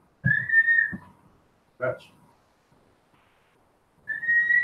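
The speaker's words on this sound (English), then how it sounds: "Will you quit whistling?" Someone whistles a sustained high note, breaks off for a short spoken word, then picks the whistle up again.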